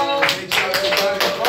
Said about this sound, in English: I want y'all to give a round of applause for the workshop artists